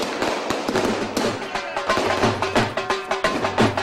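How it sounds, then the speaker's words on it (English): Fireworks and firecrackers going off during a celebration in Delhi make a dense, loud, continuous crackle of rapid bangs and pops, with a faint voice underneath. "How much money have you spent on the fireworks?"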